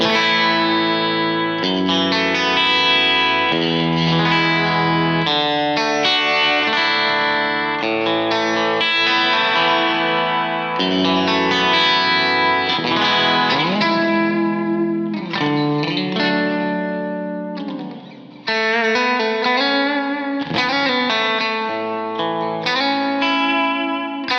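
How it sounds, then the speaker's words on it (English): Electric guitar, a Dale Wilson Strat on its bridge pickup, with a bright, distorted tone playing sustained chords and melodic lines, thick with effects and a short pause near the end. "let's hear the bridge pickup"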